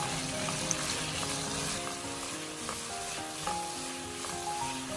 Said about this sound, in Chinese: 油热之后先把切好的土豆倒进来，给它煸炒一下